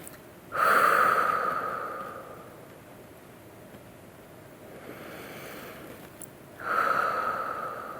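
Slow, deep breathing during a guided reflection. Two long audible breaths rise and slowly fade, separated by several seconds of quiet. They sound close and moderately loud, with no talk over them.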